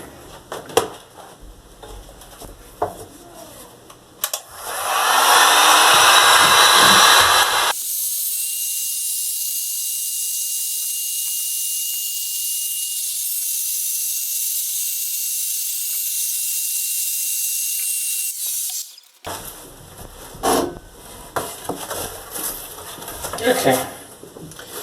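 Stencil-printed t-shirt ink being dried: a loud, steady blowing hiss runs unbroken for about eleven seconds, then cuts off, with quieter room sounds and talk before and after it.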